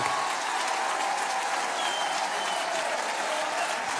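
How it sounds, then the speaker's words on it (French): A television studio audience applauds steadily on a French TV show, a dense, even wash of clapping that holds at full level throughout. "Venez ici, que le public vous applaudit"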